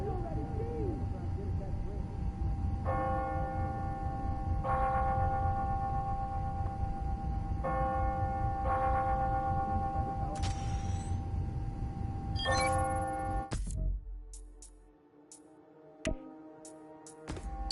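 Church bells in the video game Marvel's Spider-Man: Miles Morales ring out on the hour in several repeated bursts over a steady background hum and murmur, ending with a few sharp clanks and quieter sounds.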